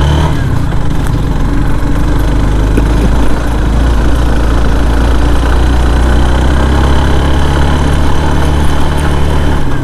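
Motorcycle engine, a Yamaha R15 V3 or Hero Xtreme 160R, riding uphill, with a loud continuous close drone and steady low rumble throughout.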